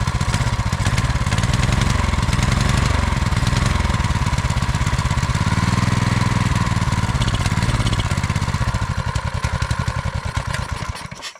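Manco Dingo go-kart with a rebuilt engine running close and loud, a steady rapid small-engine putter that rises as throttle is given, then fades and cuts out at the end.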